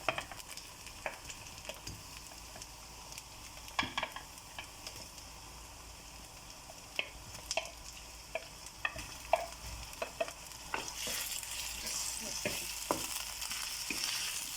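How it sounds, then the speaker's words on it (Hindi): Chicken pieces fry with golden cumin and softened onion in a karahi, a steady sizzle broken by frequent scraping stirs of a spoon against the pan, growing louder and hissier toward the end. "अब हम चिकन को फ्राई करेंगे जब तक इसका कलर चेंज ना हो जाए।"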